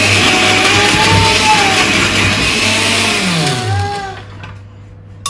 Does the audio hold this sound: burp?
no